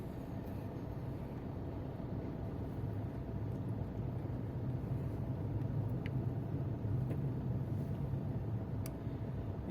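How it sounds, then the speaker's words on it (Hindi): Steady low rumble of a road traffic jam in Ludhiana, continuous engine and tyre noise from vehicles packed close by, with no voices. "traffic jam,"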